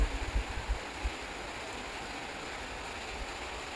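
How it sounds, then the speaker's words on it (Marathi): Heavy rain pours steadily at a train station as a train arrives, a dense, constant hiss with a few low rumbles and thumps near the start. "ट्रेन पण आली आहे."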